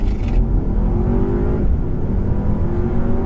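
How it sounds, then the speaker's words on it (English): A 2015 Audi A3 in regular mode with traction control on, accelerating hard from 0 to 60 mph, its engine note loud and close from inside the cabin, rising in pitch through a gear change with a steady droning roar. "It's got a really gutsy engine. It pulls really, really good."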